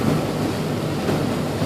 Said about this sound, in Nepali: समुद्रको छाल